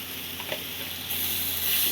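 Pointed gourd and potato frying in a pan with salt added, a continuous close hiss and sizzle with a few soft stirring scrapes, growing louder partway through.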